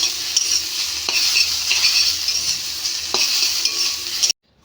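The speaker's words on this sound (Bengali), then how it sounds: "তো হয়ে গেছে আমার ঢেঁকি শাক ভাজা" Dhenki greens being stir-fried in a pan, with a strong steady sizzle and repeated scraping strokes of a spatula, close and loud, ending abruptly in silence.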